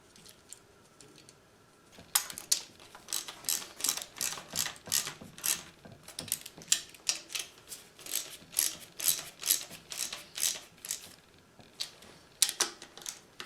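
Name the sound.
ratchet tightening nuts on studs of Ford Flathead engine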